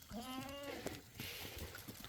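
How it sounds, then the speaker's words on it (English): A baby goat on an off-grid homestead bleats in a series of short, wavering, nasal cries, close and fairly faint, with some background movement. "Hey, baby goat. What's up, baby goat?"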